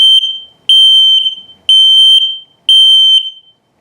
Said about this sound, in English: if it beeps very slowly, it's telling you that your battery's low